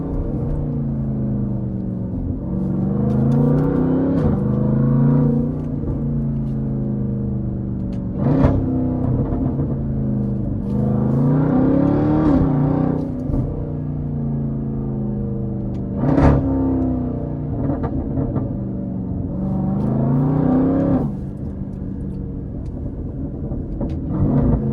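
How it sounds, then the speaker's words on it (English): Jeep Trackhawk engine revving repeatedly, deep rumbling rises and falls in several waves, with sharp exhaust pops and crackles between the revs, loud and close. "I hope y'all can hear the pops."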